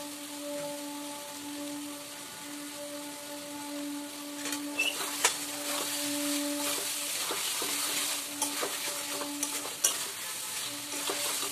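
Potatoes dropped into hot oil sizzle steadily while being stirred, with scattered clicks and scrapes of the utensil against the pan rising through the middle of the clip; no one talks.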